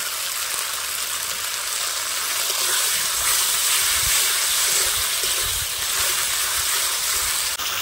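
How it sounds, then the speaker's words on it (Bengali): Steady hissing sizzle of a dried chili and garlic paste frying in a pan, continuous and fairly close with no talk over it. "শুকনো লঙ্কা আর রসুন বেটে রেখেছিলাম, সেটা একসঙ্গে ভেজে নেব"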